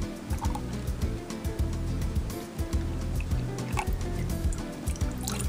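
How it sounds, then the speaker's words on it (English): Heavy cream pours into a small saucepan, making a close, gurgling glug that comes in uneven pulses and continues for several seconds without any talk. "I'm going to add 1 cup of heavy cream."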